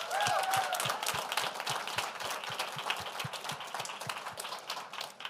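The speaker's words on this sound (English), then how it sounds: "Round of applause for them." An audience at a LinkedIn speaker series event claps steadily for several seconds, a dense round of applause that tapers slightly toward the end.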